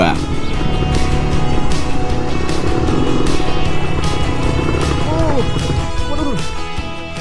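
A motorcycle rides along a narrow dirt footpath in rural southern Java, its engine a loud, steady drone running close throughout while people talk over it.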